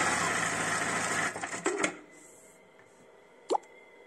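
A Kingtex KLD 8520M sewing machine runs briefly on a decorative stitch with a busy mechanical whir. It stops with a few clicks and clunks, and after a short quiet one more sharp click is heard.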